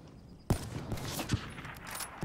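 Gunfire in the shooter Black Ops 3 during a one-on-one match: several sharp shots in a loose, uneven burst after a quiet start, close and punchy, with no talking over them.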